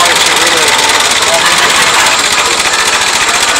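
A Ford Model T engine runs with a loud, steady, rapid chugging beat and constant mechanical rattle, close by, with a person talking over it.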